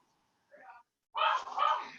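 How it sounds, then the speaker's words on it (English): Pet puppies indoors give a short muffled bark, then after a pause a louder, sustained burst of excited barking close to the microphone. "Those are your puppies, I take it."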